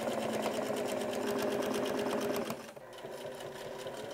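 A sewing machine stitching down a placket seam on a button-up shirt, running loud and fast with a steady mechanical rhythm close up, briefly slowing before continuing.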